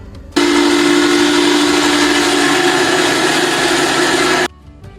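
A grinder machine mincing an içli köfte mixture runs as a loud, steady whirring drone with a strong hum, switching on abruptly and cutting off near the end, with no talking.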